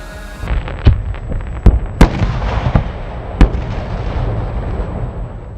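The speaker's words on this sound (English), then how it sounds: "Japan celebrates its history through traditional firecrackers." Traditional firecrackers exploding at a celebration, a rapid irregular string of sharp loud bangs and cracks with echoing rumble between blasts, several standout reports over a continuous crackle.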